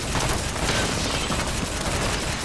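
Sustained, dense gunfire rattles through a firefight in the video game Escape from A.R.C, a loud continuous barrage with no pauses.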